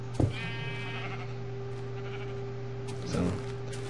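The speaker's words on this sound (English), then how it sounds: "here are some sheep" Sheep in the video game Minecraft bleat in two short, close calls, one near the start and another about three seconds later, over a steady background hum.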